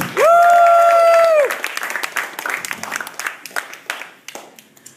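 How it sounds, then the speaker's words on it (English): At a hypnotist's stage show, a brief loud sustained tone is followed by a crowd's round of applause, with scattered, uneven claps that gradually thin out. "so you can get another loud round of applause"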